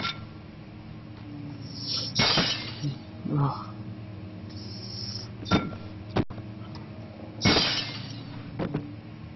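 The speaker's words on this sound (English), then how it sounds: "Look at how hard you have to slam a book into glass." A book slammed into a window pane in the Amnesia horror game, heard as two sharp glass-breaking crashes with scattered tinkling debris between them and a brief spoken exclamation.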